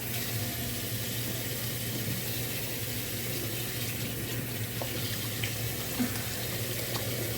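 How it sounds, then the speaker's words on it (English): Hands being washed under a running bathroom tap, a steady close hiss and splash of flowing water that continues evenly throughout with small shifts as the hands move. "I'm gonna wash my hands first off."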